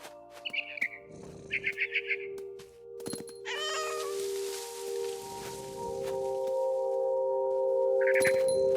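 A cat meows clearly in What Remains of Edith Finch on PS5, one drawn-out call near the middle. Before it come bursts of rapid, pulsing bird chirps, and a last short chirp plays over a sustained musical drone.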